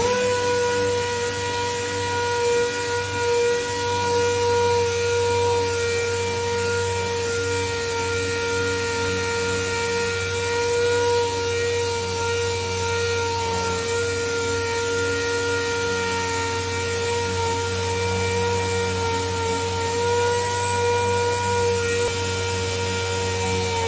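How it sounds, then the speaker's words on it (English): Sanding the EDP coating on a car body with 220 or 320 grit sandpaper, heard as a steady, unbroken mechanical whirring drone that holds an even level throughout, with no talking. "we're using 220 or 320 sandpaper"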